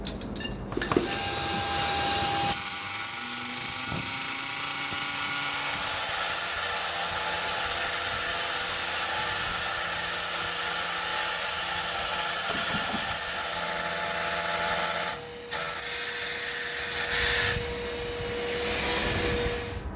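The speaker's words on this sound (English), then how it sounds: "let's go and drill the first hole." A power drill bores a hole for an AA408 safety roof anchor on a roof, with a steady high whine for most of the stretch. Short pauses and restarts break it up, and a brief stop comes near the end.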